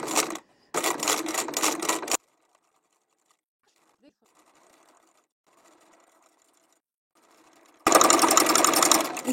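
Domestic sewing machine stitching a turned appliqué with invisible thread, heard in fast, steady bursts of needle clatter with a short pause, then a long quiet stretch with faint handling, and a loud run starting again near the end.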